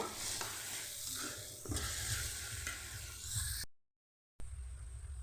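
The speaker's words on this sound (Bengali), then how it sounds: "পেঁয়াজ লাল করে ভাজা হয়ে গেছে" Chopped onions fry in a pan, giving a quiet, steady sizzle with stirring scrapes, a short silent break, then the frying hiss resumes.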